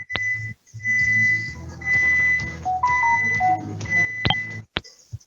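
Convection oven signalling that a batch of cookies has finished baking, a series of bright electronic beeps and chimes in a quiet home kitchen, close and clear with short gaps between tones.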